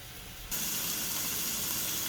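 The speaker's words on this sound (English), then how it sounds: "we're going to put the lid on and let our broccoli steam" Broccoli in a covered skillet with about two tablespoons of added water, giving a sudden loud burst of steam and sizzle that then holds as a steady, close hiss.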